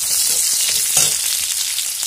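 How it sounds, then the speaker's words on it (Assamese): Onions sizzle in hot oil for a pork curry, a loud, steady, close frying hiss with a brief surge partway through. "পিঁয়াজখিনি অলপ ভাজি ল'ম"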